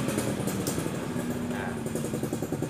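A Honda Beat ESP motorcycle's electric starter, faulty and clicking without catching, makes a steady, close mechanical clatter and rumble that runs for the full stretch with no clear break.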